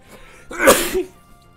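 A single loud, close human sneeze with a sharp breathy burst, alone in a quiet room during a Pokémon Ruby gaming session.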